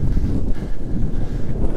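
Strong mountain wind roars and buffets against the microphone in a steady, low rumbling rush with no other clear sounds, during an e-bike climb to Leaota Peak in Romania.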